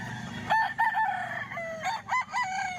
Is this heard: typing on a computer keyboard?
no